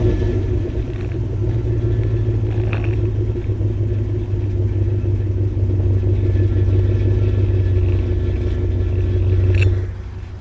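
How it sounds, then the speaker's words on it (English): A 2021 Chevrolet Suburban High Country with a 6.2 V8 runs at a steady, quiet idle after starting, a low even exhaust hum that holds for several seconds, then briefly swells and cuts off. "let's go ahead and fire this up, get an exhaust clip in there"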